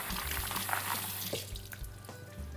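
Water showering over sprouting chili seeds in a hydroponic sprouting tray, a soft continuous spray and trickle at low level with faint splashes, no voices.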